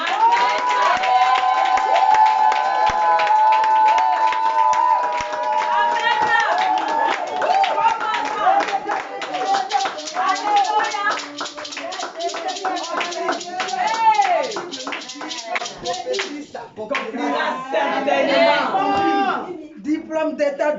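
A church congregation bursts into sustained clapping, cheering and shouting in acclaim of the Lord, a dense crowd roar with rhythmic claps and excited voices throughout.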